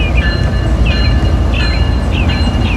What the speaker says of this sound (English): We got a 5-engine empty coal train coming by the Main Street station.